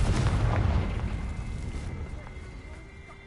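Confringo blasting spell detonating in Hogwarts Legacy: a loud, deep explosive boom at the start that rumbles and slowly decays over a few seconds, with a faint tonal hum lingering underneath.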